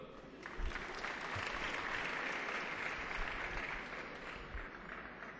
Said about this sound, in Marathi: वाजवत चला टाळ्या